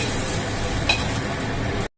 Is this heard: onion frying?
yes